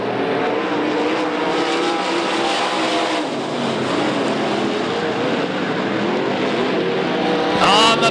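Modified race cars roar around Knoxville Raceway, a loud, continuous engine drone of several cars passing close, with pitch swelling and sinking as they race, then a fresh rising rev at the end.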